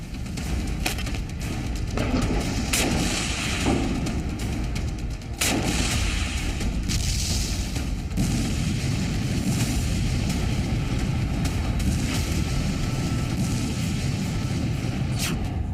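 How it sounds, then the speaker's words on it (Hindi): Missiles strike Israel in a night attack, heard as a sustained barrage of heavy booms and blasts over a constant low rumble. Repeated sharp detonations stand out across the whole stretch, sounding fairly distant, with no talking. "बीती रात इजराइल पर 30 मिनट में 121 मिसाइलें दागी गई।"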